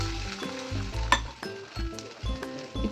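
An egg is poured onto an oiled hot tawa for a Kolkata egg roll, giving a steady sizzle with a few clinks of a utensil, close by and without talk.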